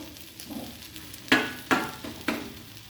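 Maggi noodles with egg fry in oil, giving a low sizzle marked by three sharp spatula scrapes or taps spaced about half a second apart.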